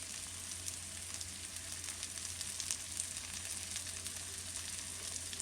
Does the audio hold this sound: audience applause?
no